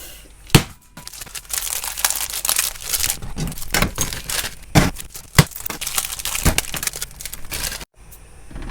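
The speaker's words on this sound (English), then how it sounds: "let's get smashing up some chocolate." Chocolate bars being smashed up for homemade Bounty bars, a dense run of crinkling, cracking and crunching with several sharp louder snaps, close and continuous, no talking.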